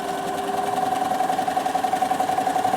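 A Bernina sewing machine stitches pockets onto fabric with a continuous close, even motor hum and a fast, regular stitching pulse.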